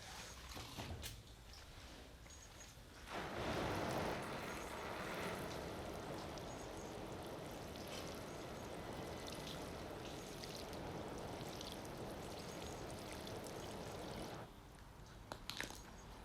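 Water pours into a mimosa pudica plant pot for about eleven seconds, a soft continuous trickling stream, fairly faint and close, with a few light clicks before and after.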